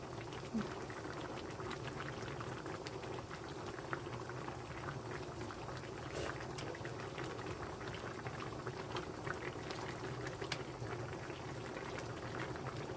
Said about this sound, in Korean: 물이 계속 나오면서 이렇게 졸여줘서 맛있게 돼요